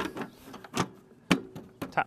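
A side cover being tapped into place on an Allett Cambridge cylinder mower: a few short, sharp knocks spaced irregularly over about two seconds, close by and fairly quiet.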